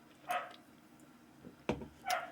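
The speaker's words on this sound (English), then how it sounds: "Sorry, my dogs can be loud sometimes" Several dogs in a home bark in three short, sharp bursts spread over a couple of seconds against quiet room tone, fairly close and moderately loud.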